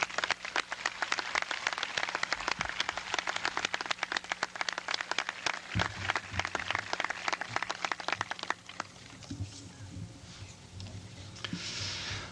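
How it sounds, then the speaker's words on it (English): Crisp, rapid clapping from a high school graduation audience in 1984 rattles on for about nine seconds, then thins out into scattered claps and quieter room noise. "I think we need to give them a round of applause, please."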